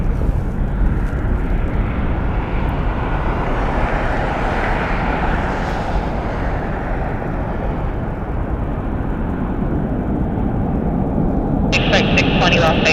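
A Southwest Airlines airliner roars past at Las Vegas Harry Reid International Airport, departing for Santa Ana, a loud, sustained broadband engine rumble that swells and fades slowly, with a brief radio beep near the end.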